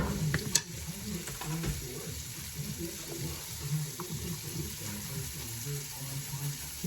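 Onions frying and being stirred in a pan in a home kitchen, a steady close sizzle with scraping and stirring clatter throughout, one sharp knock near the start, no talk.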